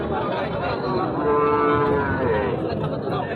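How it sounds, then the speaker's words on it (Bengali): Cattle at a crowded market where Indian Sahiwal and Nepali Gir bulls and calves are sold, with a long, loud moo standing out over the continuous din of the herd and a bustling crowd. "দেখতে পাচ্ছেন সব দিকে শুধু গরু আর গরু"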